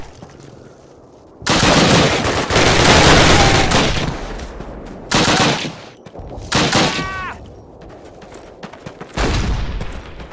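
Rifle and machine-gun fire ring out in Call of Duty's Brecourt Manor mission, several loud, close bursts of rattling shots broken by short silent gaps.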